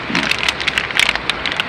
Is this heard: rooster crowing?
no